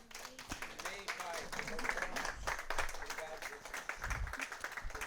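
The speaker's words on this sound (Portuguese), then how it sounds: "dê um forte aplauso a Jesus" Congregation applause during a church sermon, scattered clapping at low level beneath a speaking voice and room noise, brief and fairly distant.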